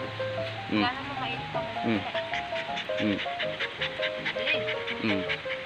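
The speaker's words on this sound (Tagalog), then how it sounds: "Hingal na siya pero ang lakas pa rin ng energy." An American Bully dog pants rapidly and steadily at close range. The panting sits under light background music, with a few whimper-like vocal squeaks mixed in.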